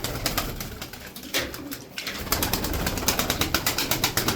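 Tumbler pigeons at a Turkish pigeon seller's coop, with dense, steady cooing and soft rustling close by, a brief quieter lull midway, then a continuous murmur of many birds.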